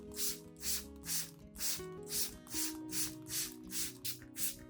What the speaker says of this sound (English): When spraying, let the solution form a fine mist so it spreads evenly over the leaf surfaces and stems